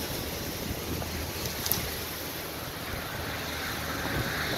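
Ocean waves and wind rush in a steady, full-band wash that stays close and constant throughout, with no voices.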